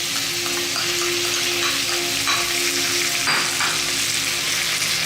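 Prawns stir-frying in a pan for devilled prawns, a steady close sizzle and crackle with spatula scrapes and stirring clatter over a continuous hiss, no talking.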